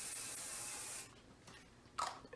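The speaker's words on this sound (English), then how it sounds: "now to seal it, you use a waterproof sealer and control" Waterproof sealer is sprayed from an aerosol over hair fibers on the head in one steady hiss lasting about a second. A couple of brief, quieter bursts follow.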